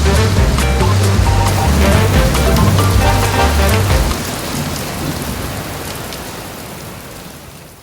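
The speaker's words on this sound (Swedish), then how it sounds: "Det regnar hårt." Heavy downpour drumming on a car in Greece, loud and close, a dense patter that eases slightly after the first few seconds but keeps going throughout, with no voices.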